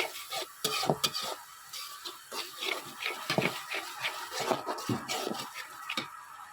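Spice paste for a fish curry is being stir-fried, the ladle scraping and knocking the pan in a brisk irregular rhythm over a soft sizzle, close and fairly loud.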